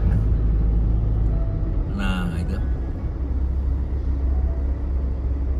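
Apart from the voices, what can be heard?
truck driving on a busy road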